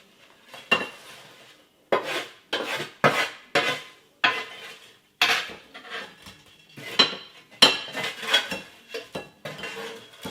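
Salt and pepper McCain potato smiles tumbling off a tray onto a plate with pepper, making a string of sharp clattering knocks and scrapes of crockery and utensils, close and fairly loud, in separate bursts with short pauses.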